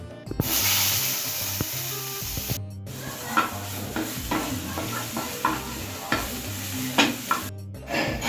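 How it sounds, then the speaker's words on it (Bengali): Chopped eggplant frying in hot oil in a wok, a steady close sizzle broken by repeated stirring clatters and scrapes, with two brief silent gaps. "এবার ওই কড়ার মধ্যেই ভেজে নেব কুচিয়ে রাখা বেগুনগুলো"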